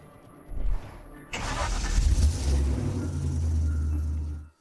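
A car engine starts with a sharp roar after a brief thump, then settles into a steady rumbling run for a few seconds before cutting off abruptly.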